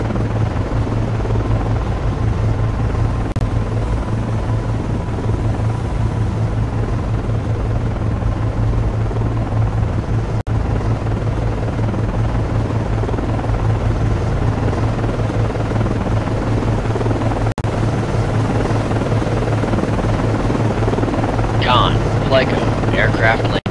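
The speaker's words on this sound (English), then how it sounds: "Aircraft landing." An SH-60 helicopter lands on an Arleigh Burke destroyer at night in the naval game Cold Waters, a loud steady rotor and engine rumble with wind-like noise running throughout, and a brief chirping sound near the end.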